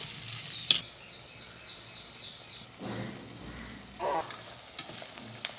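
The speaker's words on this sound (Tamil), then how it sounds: "வெங்காயத்தை நல்லா வதக்கி விட்டுக்கலாம் வதங்கட்டும்" Onions sautéing in oil in a clay pot for village-style fish curry make a soft continuous sizzle, broken by a few faint stirring scrapes and light knocks.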